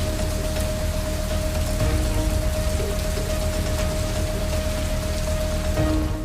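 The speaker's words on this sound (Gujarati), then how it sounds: "અનેક વિસ્તારોમાં ભારે પવન સાથે વરસાદ ખાબક્યો" Heavy unseasonal rain driven by strong wind pours down in Gujarat's Kutch region, a dense, steady hiss of drops close by with no voices.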